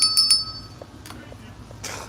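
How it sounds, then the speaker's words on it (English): A counter bell in a 7-Eleven convenience store rings twice in quick succession, clear and close, and its bright tone fades into the low background noise of the store. "Yeah, ring the bell so he can hear you."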